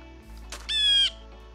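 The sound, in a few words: blue jay call from Minecraft Naturalist mod, video game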